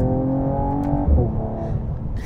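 Mercedes-AMG CLS 53 straight-six engine heard from inside the cabin, a steady loud drone with rising harmonic tones that shift as it pulls, continuous throughout.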